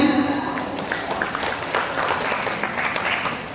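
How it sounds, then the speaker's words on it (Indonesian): Audience applause rings out at a community anniversary celebration, a full crowd clapping steadily near and fairly loud across several seconds, with a brief voice at the very start before the clapping takes over. "Boleh tepuk tangan?"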